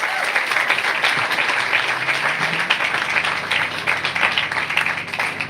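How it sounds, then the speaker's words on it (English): A crowd at an event for the Crenshaw/LAX Metro K Line gives a big, sustained round of applause, dense clapping with some cheering, loud and continuous, with a voice faintly underneath. "Give him a big round of applause."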